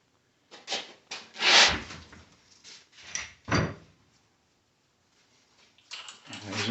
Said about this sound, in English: You can usually just pop them out with a pry bar.